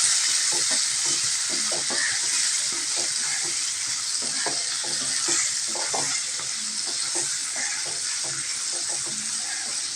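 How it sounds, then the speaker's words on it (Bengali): A spatula stirs food frying in a pan, the steady broadband sizzle running throughout with soft scraping strokes repeating underneath at a close, even level; no talking. "খুন্তির সাহায্যে এভাবে একটু নাড়াচাড়া করে 2 থেকে 3 মিনিট মতন ঢাকা দিয়ে দেব, ততক্ষণ ফ্রাই হোক।"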